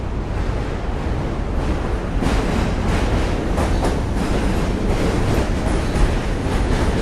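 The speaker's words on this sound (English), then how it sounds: "I can see on these trains going by" A train rumbles past at close range, a loud, continuous roar with steady rattling of the cars along the rails.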